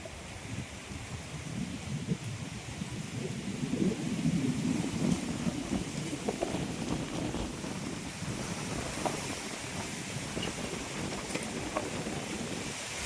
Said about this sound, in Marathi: काय वारा सुटलाय बघा